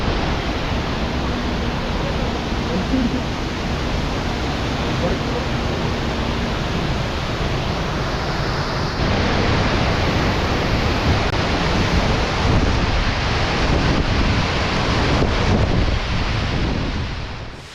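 Roar of a big waterfall in Idukki, heard from right below the falls: a dense, steady broadband rush mixed with wind buffeting the microphone, loud and unbroken throughout.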